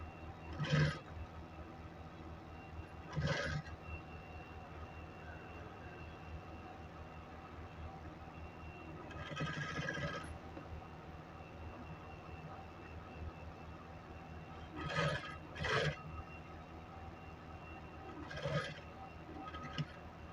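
A sewing machine stitches a shirt sleeve, running as a quiet, steady mechanical whir with a handful of brief louder bursts of stitching spaced through the stretch. No talking is heard.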